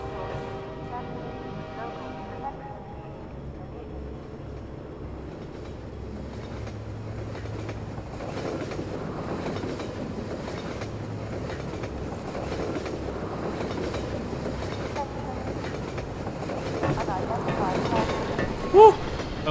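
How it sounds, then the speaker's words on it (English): A train in the Half-Life 2 video game approaching and passing, a low rumble that swells steadily into a louder rolling clatter of wheels on rails toward the end. "Just wait for the train to come."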